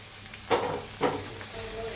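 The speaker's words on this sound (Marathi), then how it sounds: "आता ह्याच्यात टमाटर टाकून घेऊया।" Tomatoes dropped into browned frying onions for a beans sabzi, two bursts of loud close sizzle about half a second apart, then a steady low frying hiss.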